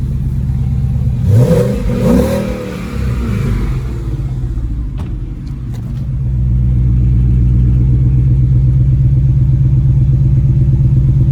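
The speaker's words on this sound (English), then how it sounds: "I assure you it does sound like a V8" A Ford Mustang GT's V8 exhaust revs up a couple of times, then settles into a deep, steady, burbling idle, loud and close.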